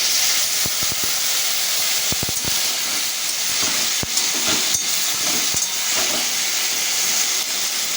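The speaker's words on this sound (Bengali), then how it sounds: "এবার আমি বেটে রাখা মশলাটা দিয়ে দেবো।" Ground spice paste hits mixed vegetables frying in a pan, producing a loud, continuous hissing sizzle broken by scattered sharp pops and spoon clicks.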